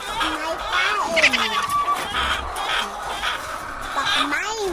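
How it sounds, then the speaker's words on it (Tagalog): Chickens cluck and chatter close by while being fed, a busy run of overlapping calls with a person's voice talking over them at times. "Mga manok may kain."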